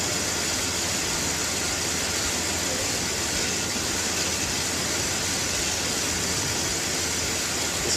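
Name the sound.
truck engine idling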